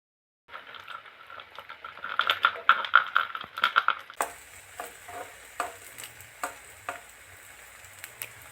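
Fried chips tipped into beaten eggs and mixed for chips mayai: a quick burst of tapping and clattering as they land, then steady sizzling with repeated stirring scrapes and clicks, close and fairly loud, no talk.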